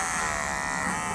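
Electric hair trimmer shaving a head, a loud, continuous close-up buzzing drone with a dense, steady texture and no voices over it.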